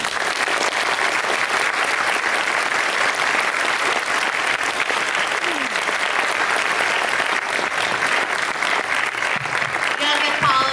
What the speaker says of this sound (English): one more round of applause for John Moore